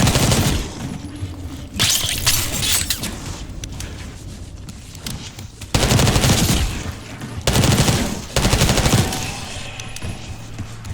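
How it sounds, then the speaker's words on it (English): Bursts of rapid gunfire from the video game Call of Duty: Black Ops 6 crackle in several loud volleys, separated by quieter stretches of rumbling background noise. "You hearing gunfire? Yeah. Sounds like they're coming from one of the lower floors."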